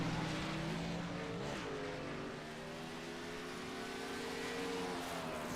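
The number 43 race car laps the Mid Ohio track during practice. A distant engine drones steadily, its pitch gliding up and down through gear changes, with other cars audible under continuous track ambience.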